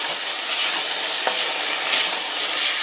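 Onions sizzle and fry in a pot for French onion soup, a loud, steady hiss broken by soft scraping as they are stirred around.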